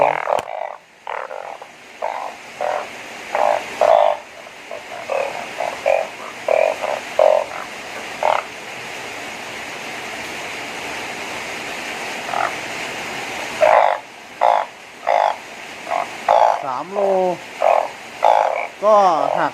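Large frogs croak after rain in a series of loud, close, rhythmic calls, pausing in the middle before resuming in quick bursts, with no talk.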